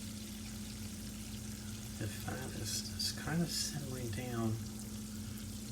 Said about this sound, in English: if you look, you can see the fat is kind of simmering